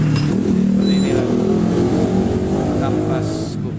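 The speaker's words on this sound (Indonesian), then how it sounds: "kampas kupling yang sudah slip, tinggal diganti saja." A motorcycle or car engine with worn, slipping clutch plates revs steadily at close range, holding a strained drone for several seconds before easing off, with talk over it.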